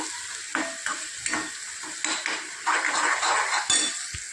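Spice masala being stirred in a hot frying kadai, with a ladle scraping and clinking against the metal pan over a steady sizzle, close and moderately loud, in repeated stirring strokes.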